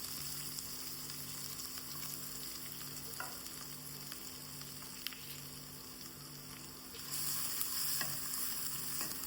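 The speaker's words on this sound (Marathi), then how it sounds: "अशें गरम जालें की दोन बारीक कांदे कातरले ते घालया." Finely chopped onions fry in hot oil, giving a faint, continuous hiss with a low steady hum beneath and occasional soft stirring clicks, growing slightly louder near the end.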